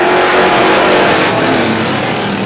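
Vintage race cars at Star Speedway roar past loudly at close range, engines revving hard in a sustained, droning blast of competing motors.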